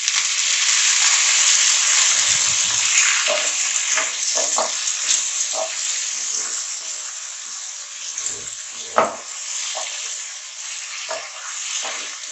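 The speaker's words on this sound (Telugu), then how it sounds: "ఇందులో మనం ఇప్పుడు సన్నగా కట్ చేసి పెట్టుకున్న టమాటాలు వేస్తున్నాం" Chopped tomatoes drop into a pan of frying onions, setting off a loud, continuous hiss, with occasional stirring knocks and scrapes close at hand.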